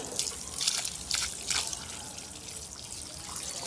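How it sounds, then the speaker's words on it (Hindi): Water is poured onto freshly transplanted tomato seedlings and soaks into the soil. It comes as several splashy bursts of trickling and dripping close to the microphone, followed by a softer, quieter pour. "पानी मैं दे रहा हूँ और साथ ही पानी जो है वो मट्टी में जज्ब हो रहा है"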